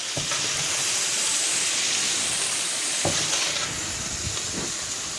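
Cabbage frying with bacon and onions in a pot while being stirred from the bottom: a steady hiss of sizzling fills the whole stretch, with a few soft scrapes and clacks of the spoon.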